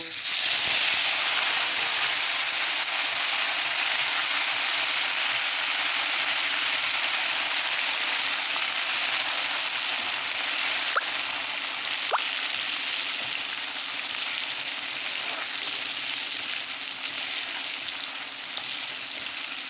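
Asafoetida, whole dried spices, tomato and curry leaves frying in hot oil for undhiyu, a steady loud sizzle and hiss that runs the whole time without speech.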